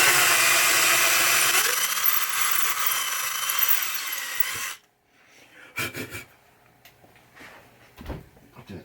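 A power drill bores a hole into the wooden playfield of a 1980 Williams Firepower pinball machine, whining loudly and steadily for about four and a half seconds before stopping, followed by a few light handling knocks.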